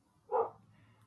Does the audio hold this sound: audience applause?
no